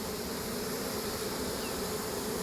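Honeybee swarm settling into a new hive, a dense continuous buzzing hum, close and even, with many bees droning at once and no pauses.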